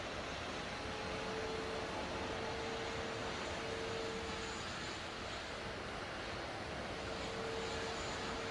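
In a flight simulator game, an airplane's engine drones steadily under added power on landing approach. The sound is a constant, even hum with a faint tonal whine and no speech.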